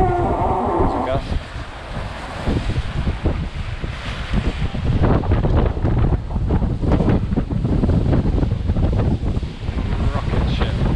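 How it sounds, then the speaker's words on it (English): A strong gust of wind roars across the microphone aboard a ClubSwan 36 racing yacht under sail, with a steady loud rush of wind and water throughout and a faint voice near the start. "A gust."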